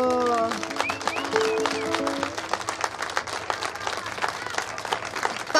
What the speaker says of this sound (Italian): faccio anche un video degli applausi